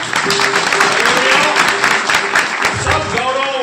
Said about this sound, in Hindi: आइए ताली मारेंगे प्रभु के लिए